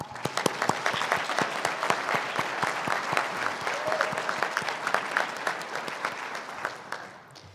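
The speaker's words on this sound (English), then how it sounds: "Please give them all a round of applause." Sustained applause from a large audience at a graduation commencement ceremony, steady clapping throughout that thins out near the end.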